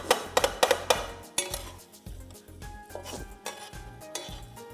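Metal spatulas clanging rhythmically on a hot griddle while chopping and mixing dumba meat, a fast run of sharp clinks that slows into sparser scraping taps over a faint sizzle, close and alone.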